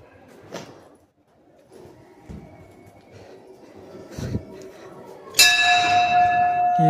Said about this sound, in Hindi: ये घंटी है भाई